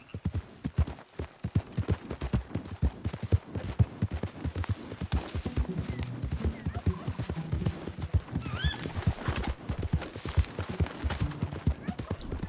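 A horse in the video game Red Dead Redemption 2 gallops with rapid, rhythmic hoofbeats close by, whinnying partway through, while someone talks over the action.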